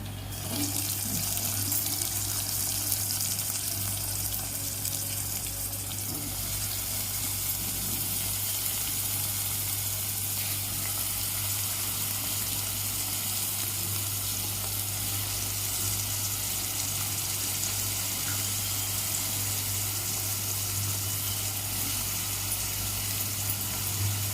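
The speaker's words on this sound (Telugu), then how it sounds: "నీళ్ళు పంపిస్తాము" Water runs steadily into an eggplant and chana dal curry in a cooking pot, a smooth continuous rush lasting over twenty seconds with a low background hum underneath.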